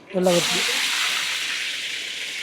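Tomato, onion and green chili drop into hot oil with cumin and mustard seeds for oggarane at a busy Mandkal eatery. A brief voice opens, then a loud sizzle bursts out and holds steady.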